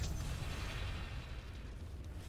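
Leshrac's Edict in the Dota 2 video game, heard as a dense, continuous wash of muffled booming explosions with heavy low rumble, fairly faint and steady throughout with no talking.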